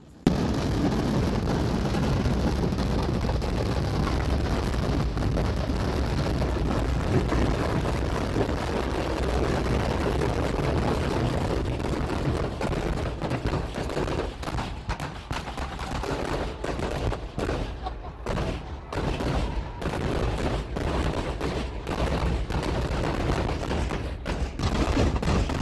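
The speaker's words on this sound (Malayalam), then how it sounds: "ഞാൻ ഇപ്പോൾ ക്യാമറ തിരിക്കാം, ജസ്റ്റ് എന്നിട്ട് കാണിച്ചു തരാം വെടിക്കെട്ട് എങ്ങനെയാണെന്നുള്ളത്." A fireworks display at Kavassery Pooram, a temple festival in Kerala, erupts as a loud, dense barrage of rapid-fire bangs and booming thuds that roll almost without pause for about twenty-five seconds, heard alone.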